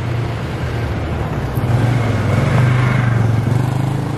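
A motorcycle passes on a street in Rome, its engine a steady low drone that swells briefly louder as it goes by, over general street noise.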